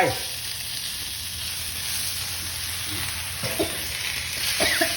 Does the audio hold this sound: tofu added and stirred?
yes